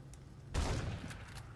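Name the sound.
gunfire in The Suffering video game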